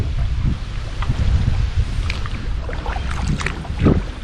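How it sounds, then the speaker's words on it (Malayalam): Strong wind buffets a fishing boat at sea, a steady low roar of gusts with water slapping against the hull and occasional creaks, loud and continuous throughout with no talking. "നല്ല കാറ്റുണ്ട് കേട്ടോ."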